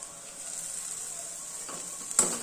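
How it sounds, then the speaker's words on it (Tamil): Mustard seeds, cumin, urad dal, chana dal, green chilli and onion temper in two spoons of oil with a constant bright sizzle, ending in a brief louder clink of stirring. "இதில் 2 ஸ்பூன் எண்ணெய் விட்டு கடுகு, சீரகம், உளுந்தம்பருப்பு, கடலைப்பருப்பு, பச்சை மிளகாய், வெங்காயம் இதெல்லாம் போட்டிருக்கேன்"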